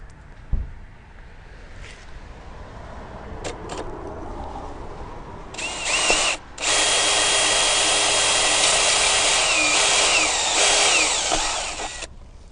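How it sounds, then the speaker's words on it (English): A power drill bores a hole in a wall for mounting an EV charger, starting with a brief burst and then running in a loud, steady whine for about six seconds close by, after a few light knocks and handling sounds. "There we can see where I'm going to drill."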